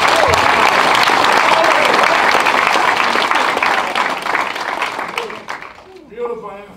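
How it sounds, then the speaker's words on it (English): A steady round of applause fills a community panel event in Coldwater, Mississippi, dense and close for several seconds before thinning out, with voices rising at the end. "Let's give a round of applause."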